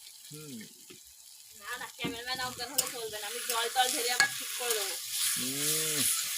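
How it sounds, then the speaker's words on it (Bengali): Potatoes sauté in a hot pan, sizzling steadily while a spoon scrapes and stirs them in repeated strokes; the cooking sounds stay close and moderately loud throughout. "তো আলুটাকে ভালো করে আমি এখন কষে নেব"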